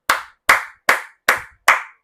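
Hands clap five times at an even, unhurried pace, each clap sharp and close with a quick decay, with clean silence between them.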